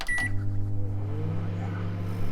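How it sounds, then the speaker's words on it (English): A microwave oven hums steadily after a short beep, its low drone running close and unbroken to the end. "Complete with microwave sound."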